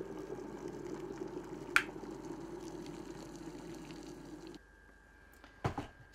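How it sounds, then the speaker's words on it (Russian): Boiling water from a kettle is poured into jars of cucumbers being prepared for winter pickling, a steady liquid rush under a hiss that stops abruptly, with a couple of faint knocks and clinks afterwards. "Кипит мой любимый чайник."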